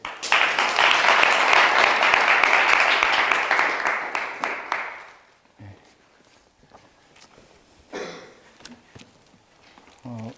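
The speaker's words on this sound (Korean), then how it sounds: "환영의 박수" Welcoming applause from a church congregation in Berlin, dense and loud for about five seconds before fading out, followed by quiet room noise, a few footsteps and scattered short sounds.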